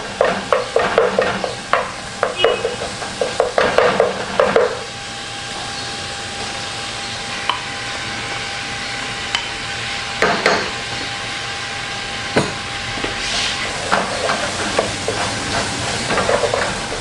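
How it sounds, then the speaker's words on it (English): Raw chorizo stirred and fried in a pan for a chorizo and corn soup: a steady sizzle under repeated scraping, clattering stirs, busier at the start and near the end, with a quieter stretch of plain frying between. "you're going to add some of the chorizo. And you mix that well."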